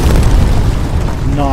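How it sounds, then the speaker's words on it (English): Bomb explosions in the VR shooter Sniper Elite VR, a continuous heavy low rumble of booms through the whole moment, with game speech and tones appearing near the end. "We're dropping bombs."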